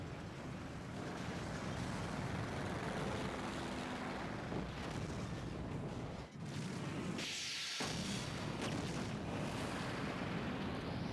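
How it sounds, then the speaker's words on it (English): Deep rumbling explosion underground in the Professor Layton and the Unwound Future video game, a sustained roaring blast that fills the scene with a brief sharp drop before resuming loudly. "if there was an underground explosion like that"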